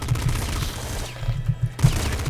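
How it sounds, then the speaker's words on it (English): Popgun from the game Nuclear Throne firing rapid bursts of bullets, loud, quick popping shots in an irregular stream with a brief pause in the middle. "The Popgun just shoots off some bullets like that, and it's pretty sweet."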